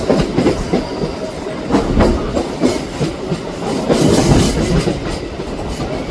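A local train on the Howrah–Amta line rolls into Santragachi junction, wheels clattering over rail joints in a steady loud rhythm, heard from inside the carriage with a rumbling hiss beneath.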